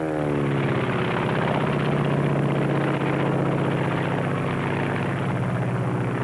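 A Japanese Zero fighter plane's propeller engine drones loudly and steadily, its pitch sweeping slightly as if passing close by, heard alone with no talk.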